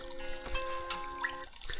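Water trickles and dribbles among rocks on a snowy mountain hike, a soft continuous burble with small splashes, close by and moderately quiet, with no one talking.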